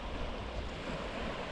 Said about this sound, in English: So we just arrived here at Darkwood Beach.